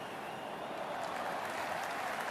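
Cricket stadium crowd at an India vs England ODI applauding, a steady dense wash of clapping heard from a distance, even and unbroken, with no talk over it.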